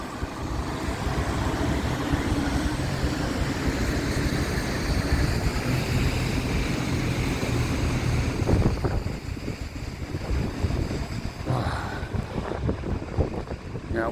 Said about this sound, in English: Wind's getting up a bit now as well, to be fair.